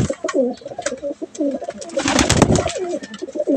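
A pigeon coos close by in repeated soft, throaty phrases, with a brief burst of rustling noise in the middle.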